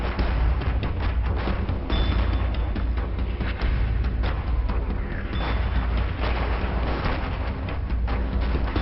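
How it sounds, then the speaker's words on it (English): Continuous dense rumble of artillery shells bursting on a 1918 Western Front battlefield, heavy low booms and crackling blasts overlapping with no break, loud and close. "the smoke from the exploding artillery shells"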